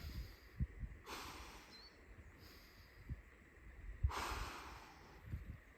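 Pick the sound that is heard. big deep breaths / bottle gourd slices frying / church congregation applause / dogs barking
big deep breaths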